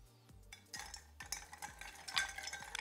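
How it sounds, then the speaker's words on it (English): A cocktail being stirred over hand-cracked ice gives soft, close clinking and scraping of ice against glass in quick irregular strokes, fairly quiet, with no talk. "A pro bartender is gonna have some hand cracked ice readily available to stir cocktails."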